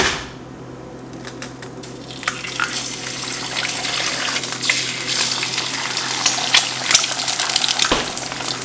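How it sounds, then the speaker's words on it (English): Eggs crack into a hot pan after bacon has been cooked, and a rising sizzle builds into loud, steady frying crackle that carries on until the end, with no talking. "now we're gonna be cracking my eggs"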